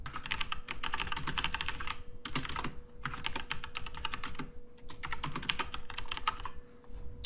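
Rapid clattering keystrokes on a computer keyboard come in several bursts with short pauses between, close and clear against a faint steady hum.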